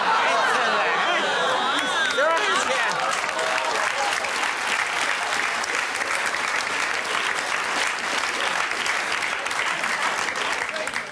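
A live audience at a stage show claps in thick, continuous applause with some chatter and cheering mixed in, holding loud and even for about ten seconds.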